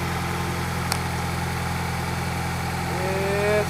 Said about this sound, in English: Why is my engine running smoother?